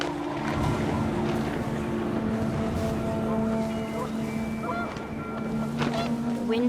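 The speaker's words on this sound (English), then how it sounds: "The wind picked up and panicked geese appeared and quickly went." Panicked geese honk in gusting wind in the game What Remains of Edith Finch, with several short calls rising over a steady low roar of wind and ambient drone.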